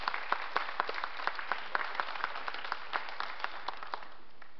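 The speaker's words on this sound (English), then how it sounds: "Give him a big round of applause" Applause from the audience at the Santa Fe Indian Market 2015 award ceremony, a steady crowd of clapping with a few sharper claps standing out, heard from a slight distance.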